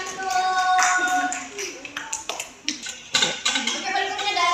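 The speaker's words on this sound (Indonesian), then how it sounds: "tepuk tangan dulu untuk kelompok auditory" A classroom of students gives a short round of scattered applause for a student group, with irregular claps rising and falling amid overlapping voices.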